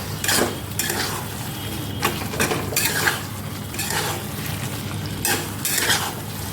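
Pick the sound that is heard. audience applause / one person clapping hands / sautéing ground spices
sautéing ground spices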